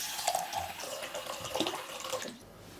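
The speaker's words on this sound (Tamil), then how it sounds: "பயிறு முழுகிற அளவுக்கு தண்ணி ஊற்றி ஓவர் நைட் நான் ஊற வைக்க போகிறேன்." Water runs from a tap and splashes into a vessel of green moong beans set to soak, a close, fluctuating gush that tapers off near the end.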